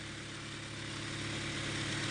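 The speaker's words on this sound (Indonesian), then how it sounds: "Ini knalpotnya udah racing ya teman-teman, jadi agak berisik sedikit" A 2001 Honda Civic VTi-S with an aftermarket racing exhaust idles steadily, a low, even hum that rises slightly in level toward the end.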